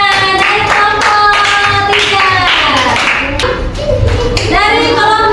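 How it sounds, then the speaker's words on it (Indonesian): A classroom of pupils applauding a group, bursts of close clapping mixed with children's voices and chatter. "tepuk tangan dari kelompok"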